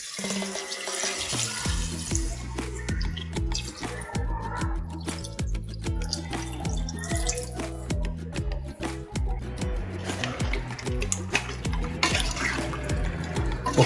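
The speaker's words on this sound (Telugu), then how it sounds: "ఇప్పుడు మనకి కావాల్సినంత వాటర్ ఇందులో యాడ్ చేసుకోండి." Water pours into a cooking pot of mutton paya (goat trotter curry), a continuous splashing, gurgling stream with rhythmic sloshing, fairly close and steady for the whole stretch.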